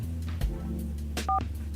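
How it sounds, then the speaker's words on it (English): Telephone dialing tones on a call placed from a radio studio, a few short dual-tone beeps over a low background hum, brief and clear with no talk. "We are going to get Matthew on the line"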